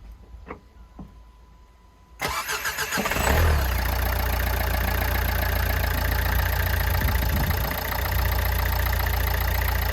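A Nissan Qashqai fitted with a replacement starter motor cranks and fires after a few faint clicks, then settles into a loud, steady idle that runs to the end with no talking.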